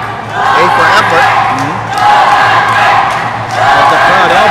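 A boxing arena crowd cheering for hometown Bohol fighters, a dense roar of voices that swells and eases in waves, loud and close, with a commentator talking over it.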